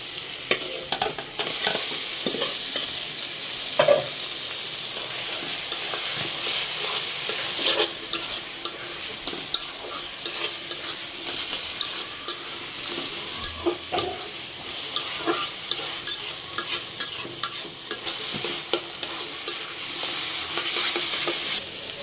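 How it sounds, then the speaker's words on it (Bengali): Taro leaves frying with small shrimp in a pan, a loud continuous close sizzle broken by repeated spatula scrapes and stirring clatter, no talking. "কষানো হয়ে গেছে একবারে ভাজা ভাজা করে নিচ্ছি এখন আমি কচু শাকটা দেবো"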